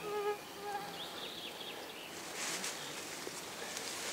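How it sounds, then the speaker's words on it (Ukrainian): Bumblebees and other bees buzz outdoors among flowers, a faint continuous hum with some nearby wing drones passing, over soft background noise and a few distant bird notes. "Тут жмелі, метелики, бджоли, осмії, кого тут тільки немає"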